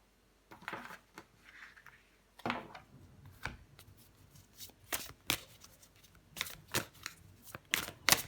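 Playing cards handled and drawn from a deck: crisp snaps, flicks and soft slides come in irregular bursts, close and clear, with no talk over them.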